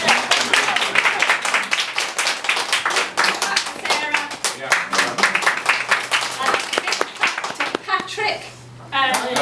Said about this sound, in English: Okay, big clap for Martin and